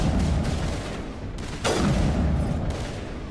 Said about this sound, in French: je vais essayer avec le fusil